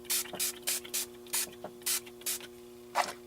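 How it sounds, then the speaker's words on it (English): Short hissing bursts from a spray bottle of coppery paint, about ten quick sprays in an uneven rhythm, close by over a faint steady hum. "It's got a nice coppery color, so I'm going to spray this."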